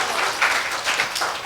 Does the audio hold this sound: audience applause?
yes